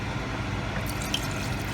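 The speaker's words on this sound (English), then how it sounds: "So this is 2 cups of stock" Chicken stock, two cups of it, poured into a peanut butter chicken soup mixture for a West African-style Ghana soup, a steady liquid trickle and splash close by with no talking.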